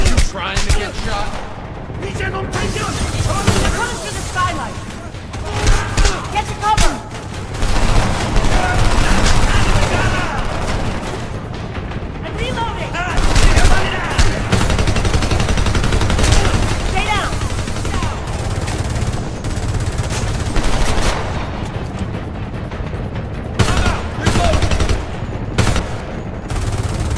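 Sustained automatic gunfire and scattered shots in the Homefront shooter game, loud and dense throughout with bursts and booms, mixed with battle noise and shouted voices.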